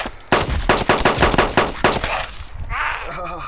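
Loud close gunfire in the survival game DayZ, a rapid burst of about ten sharp automatic shots, then a short pause and a voice speaking at the end.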